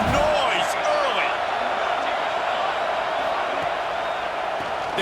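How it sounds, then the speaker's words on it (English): Stadium crowd in the College Football 26 video game, Pitt playing at Florida State, a loud continuous roar filling the space while a commentator talks over it. "This crowd bringing the energy and noise early"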